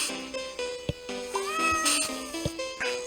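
A cat in the VR game The Quantum Box meows several times in quick succession, clear and close, with rising and falling tones and a few short clicks in between.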